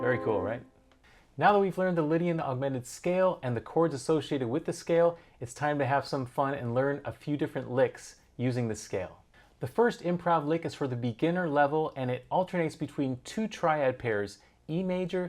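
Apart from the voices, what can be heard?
No everyday noise stands out behind the speech.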